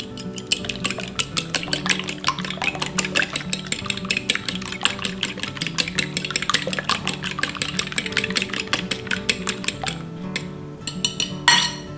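Two eggs being scrambled in a bowl for schnitzel breading: a fast, steady run of light clinking taps against the bowl, close and fairly loud, continuing for several seconds before a brief pause and a few final strokes.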